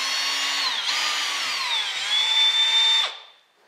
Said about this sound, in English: use a LaserBest drill bit and drill a 1/4 inch hole